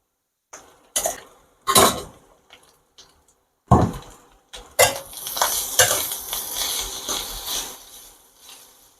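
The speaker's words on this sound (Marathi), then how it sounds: "अगदी थोडी हळद आणि तुरीच्या सुऱ्याचं वाटण टाकून आपल्याला परतून घ्यायचं आहे" A spoon stirs and scrapes through turmeric and ground pigeon pea paste frying in a pan: a few sharp knocks at first, then a steady close sizzle with stirring scrapes.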